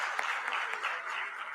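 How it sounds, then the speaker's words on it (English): A hackathon audience claps for a participant, a brief, fairly faint wash of steady applause with no voices over it. "deserves a round of applause."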